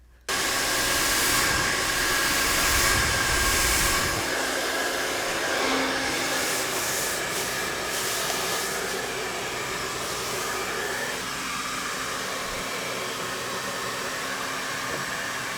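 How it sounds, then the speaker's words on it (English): A hair dryer blows continuously while styling sectioned hair for a blowout, a loud steady airy roar that starts abruptly and holds throughout, its pitch shifting slightly as the airflow moves, with no talking. "I'm gonna blow dry this, but I'm gonna blow dry it also with the other sections of my hair"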